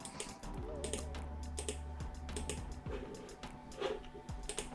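Computer clicking is heard in a design workspace: a series of light, sharp clicks and taps scattered irregularly across a quiet room with a faint background hum, with no one speaking.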